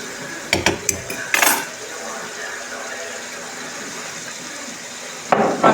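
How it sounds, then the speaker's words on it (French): Steak frying in a pan, a steady sizzle throughout, with a few clinks of utensils at the start and end and a voice briefly heard near the beginning. "on est en train de faire frire le steak"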